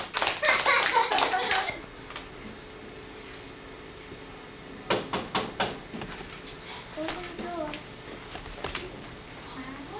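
A fifth-grade class bursts into brief, close applause for a classroom visitor, then the room quiets to scattered taps and small voices.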